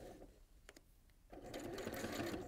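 Domestic sewing machine stitching around the edge of a fabric face mask, a short pause then a fast, continuous needle whir close by, quiet overall.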